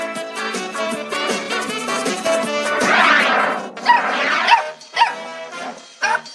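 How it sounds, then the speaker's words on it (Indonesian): A dog barks and yips in loud, close bursts, mixed with drawn-out whining tones. "Anjing menggonggong itu udah biasa."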